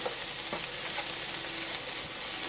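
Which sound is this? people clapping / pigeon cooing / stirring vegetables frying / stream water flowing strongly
stirring vegetables frying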